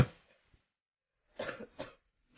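A sick person's coughs: a sharp single cough, then a pair of rough, close coughs after a short silence, with no talk.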